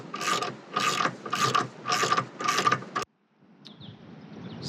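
A ratchet tightens bolts with washers and lock nuts on awning brackets fixed to a 4WD roof rack, five even bursts of close clicking strokes, then a pause and a fainter rattle.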